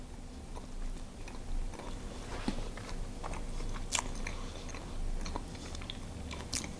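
Someone bites and chews a slice of lemon cream cheese Swiss roll with lemon curd filling, giving soft, irregular close-up crunching and mouth sounds at low level, with no talking.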